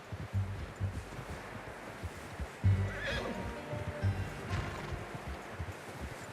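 A horse in Red Dead Redemption 2 neighs and whinnies a couple of times over soft hoof clops and rustling wind outdoors, fairly close and clear.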